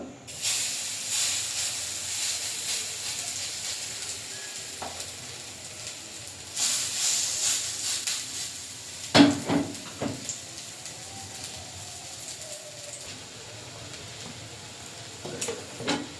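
Mustard flower fritters fry in oil in a village kitchen, giving a soft, continuous hissing sizzle. Occasional sharp utensil clinks and scrapes break in.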